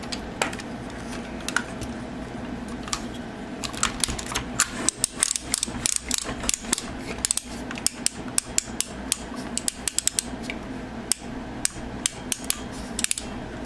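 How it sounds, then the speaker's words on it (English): Stiff ratchet joints on a Weijiang NE-01 Megamaster figure click sharply and repeatedly as the elbows and knees are flexed, close and crisp, with irregular bursts of clicks and no talking. "Elbows and knees have a very stiff ratchet."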